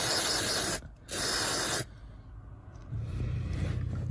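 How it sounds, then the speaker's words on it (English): An aerosol can sprays onto heater resistor contacts from a Fiat Punto, giving two loud hissing bursts close to the microphone with a brief pause between, followed by quieter handling. "not forgetting to carefully spray this."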